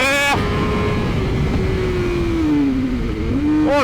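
A BMW S1000R motorcycle just out of its break-in period, engine rising sharply in a loud close rev, then holding a droning pitch that sags and climbs, ending with another quick rev.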